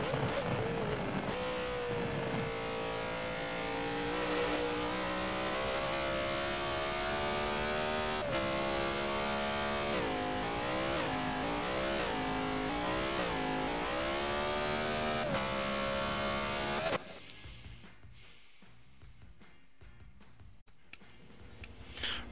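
BMW Z4 GTE race cars lapping Sebring in a racing video game, a loud continuous engine note rising and falling through gear shifts for most of the stretch, then dropping abruptly to quieter, sparse sounds near the end.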